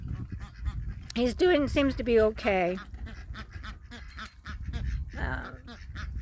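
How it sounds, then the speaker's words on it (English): A stressed, unwell goose gives a quick run of three or four loud, nasal honks close by. A person then speaks calmly, with faint background noise. "But this poor old goose"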